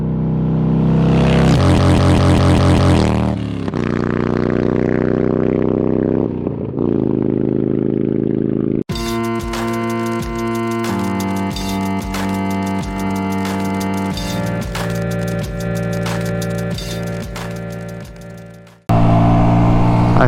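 A Honda Grom motorcycle ridden on Highway 41/Morro Road east of Atascadero, its small engine revving up through gears with loud rising whines and shifts, then a sharp change to steady high-pitched running with wind noise, close and alone.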